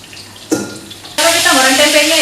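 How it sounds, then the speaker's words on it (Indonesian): Tempeh frying in a pan in a home kitchen starts with a short burst and then breaks into a loud, steady sizzle that carries on to the end. "Kalau kita goreng tempenya"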